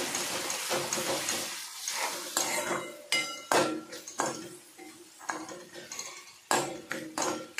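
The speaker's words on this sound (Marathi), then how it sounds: "आलं लसणाची पेस्ट टाकते, अर्धवट बारीक केलेली, जास्त बारीक नाही करायची। हे पण मिक्स करून घेते।" Coarse ginger garlic paste is stirred in a pan while cooking matar paneer, giving repeated loud clanking and scraping of a metal spoon against the pan over a low sizzle, with no voices.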